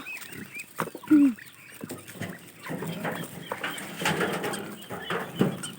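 Ducks and poultry squawk and quack in short bursts nearby, with scuffling movement and scattered calls over a busy farmyard background.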